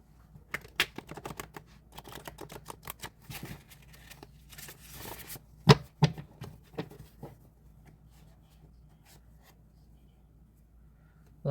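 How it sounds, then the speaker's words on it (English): Tarot cards reshuffled by hand, a close, quiet run of dry riffling clicks and flicks clustered in bursts before fading to near silence. "I'm going to reshuffle these cards again."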